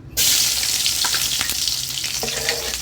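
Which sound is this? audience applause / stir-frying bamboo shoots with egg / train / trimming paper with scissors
stir-frying bamboo shoots with egg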